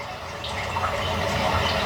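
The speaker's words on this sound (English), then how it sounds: "Do you hear the water?" Slow-moving, crystal-clear river water at a riverbank at the base of a mountain, a steady soft wash of flowing water heard alone and fairly close, with no talk.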